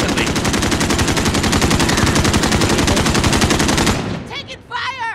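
Rapid automatic gunfire in Call of Duty: Warzone, a loud, dense stream of shots rattling steadily for about four seconds before cutting off, followed by a brief voice.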